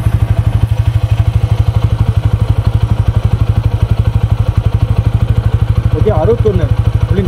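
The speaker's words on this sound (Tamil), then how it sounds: "நான் பெட்ரோல் போட்டேன், வண்டி ஸ்டார்ட் பண்ணுவோம்." A TVS Apache RTR 160 4V Special Edition motorcycle engine runs steadily up close, a loud, even single-cylinder thump throughout, with a brief burst of higher mechanical clatter near the end.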